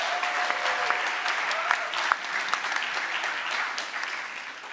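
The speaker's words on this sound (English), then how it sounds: "Let's give a round of applause." Audience at a political debate applauding a debater before her closing remarks, moderate steady clapping from a medium-sized room with a few sharper individual claps standing out, easing toward the end.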